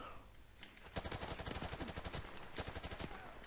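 Gunfire in the video game Call of Duty Modern Warfare Remastered, rapid automatic bursts of shots in a fast rhythm, fairly faint, with the player shouting at times.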